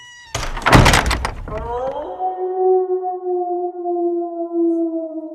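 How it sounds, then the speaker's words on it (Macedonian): A door in a Macedonian-dialect children's audio tale thuds shut, a loud, brief clunk, and a long sustained tone follows and holds to the end. "Алџика затвори врата и отиде."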